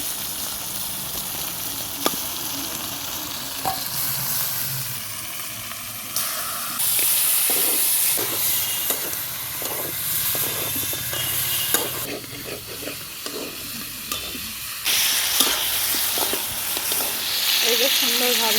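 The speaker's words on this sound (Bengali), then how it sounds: "তো এখন এখানে মুরগির মাংসটা ঢেলে দেবো।" Chicken meat sizzles loudly in hot fried spices while being stirred in a pan, a continuous hiss and crackle broken by scraping and stirring bursts as cooking continues.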